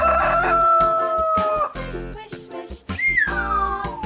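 A cartoonish rooster in a 3D animal slide game crows twice, loud and near, each call a bright rising then falling cock-a-doodle-doo set over a bouncy game music bed.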